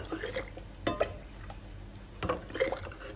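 Water poured and sloshed into a metal cooking pot in a home kitchen while preparing bacalhau com natas, soft splashes and clinks of the pan in short bursts, close and fairly quiet with no talking.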